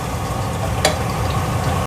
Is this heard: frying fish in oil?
yes